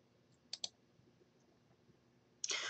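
A computer mouse clicking on a lock icon in a course scheduling program, two quick close clicks early on, then a sharper burst of clicking noise at the end, with quiet in between.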